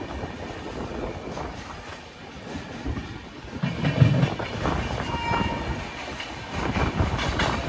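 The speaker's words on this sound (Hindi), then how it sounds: "चल चुके हमारी ट्रेन मोदी नगर से" Ujjaini Express passenger train running on the rails after leaving Modinagar toward Meerut City Junction, a steady broadband rumble of wheels and carriage noise heard from inside, swelling slightly midway with no talk.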